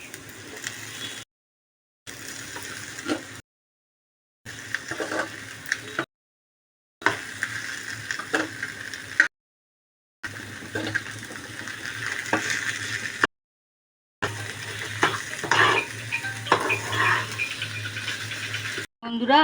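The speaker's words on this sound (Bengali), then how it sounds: "এইভাবে কষিয়ে নেবেন আলুটাকে, বেশি তেল দেবেন না যেন, অল্প তেলে।" Diced potatoes stir-fry in a little oil in a pan for lote fish chops, a soft steady sizzle broken by scraping stirs and occasional clinks, cut into short bursts separated by silences, with a person talking over it.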